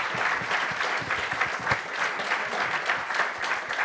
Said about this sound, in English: Big round of applause now to our great panel.